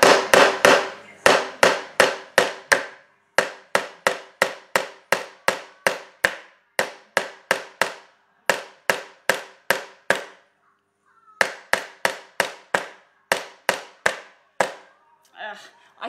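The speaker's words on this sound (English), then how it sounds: "so I've got to straighten that up before I bang it in" A quadriplegic person hammers in a nail at home: long runs of loud, sharp strikes, close and rapid with short pauses between bursts, and some misses.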